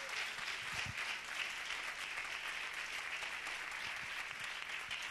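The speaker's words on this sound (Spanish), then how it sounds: "Dale un aplauso fuerte al Señor." A church congregation applauds at a worship service, a steady, sustained wash of many hands clapping at moderate distance, with a faint low hum beneath and no clear speech.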